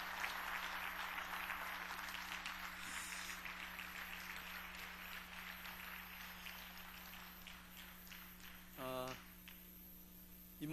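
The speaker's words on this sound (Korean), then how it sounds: "우리 박수하면서 맞이하겠습니다" A church congregation claps to welcome a guest pastor before a Wednesday sermon, a moderate spread of hands over a steady electrical hum, ending with a brief louder knock near the close.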